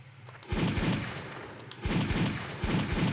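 Gunfire in the video game Duke Nukem Zero Hour comes as two loud bursts of rapid, booming shots close up, with a short pause between them.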